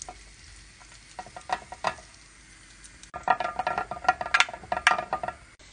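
Egg white and kashar cheese are stirred together in a hot pan, with soft sizzling and repeated close scraping strokes that grow louder and busier in the second half.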